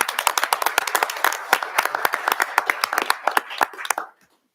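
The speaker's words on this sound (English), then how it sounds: "Let's give him a round of applause." A small crowd at a city council meeting claps in distinct, closely spaced hand claps, fairly near and crisp, keeping up a brisk patter for about four seconds before stopping cleanly.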